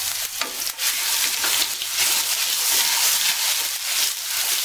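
Ginger garlic paste frying in hot oil with bay leaf, cinnamon, black pepper, asafoetida and cumin for an aloo matar curry, giving a steady, close, loud sizzle and hiss with faint stirring and no talk.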